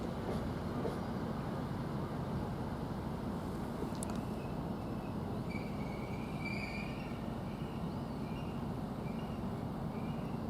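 Train at Witham railway station braking, with high, drawn-out brake squeals rising over a steady low rumble of rolling stock, continuous and moderately distant with no talk.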